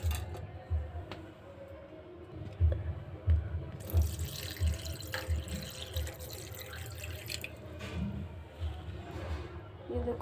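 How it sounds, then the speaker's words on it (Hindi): Water pours into a pot on the stove for a herbal kadha with ginger, black cardamom, cloves, black pepper and cinnamon, a fairly steady splashing stream lasting several seconds with low rumbling kitchen noise beneath. "एक बड़ा गिलास पानी डालना है"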